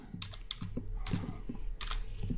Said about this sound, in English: I'm going to type in title,